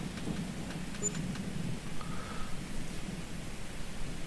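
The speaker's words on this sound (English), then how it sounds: "When does the rain stop?" Steady rain in Farming Simulator 22 on the Haut Beyleron map, a continuous soft hiss of falling water with no voices.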